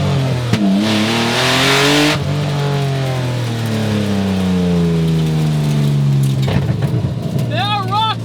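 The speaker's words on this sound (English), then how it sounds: "But man, this is a kind of scary car to drive." A Honda Insight swapped with a Subaru SVX engine drives loudly close by, its engine pulling through rising and falling revs, with a sharp burst of acceleration early on and a voice partly audible over the engine near the end.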